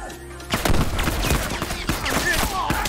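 Gunfire in The Last of Us multiplayer Factions mode on PS5: a sudden burst of rapid, close shots kicks in after a brief lull and continues with repeated sharp cracks.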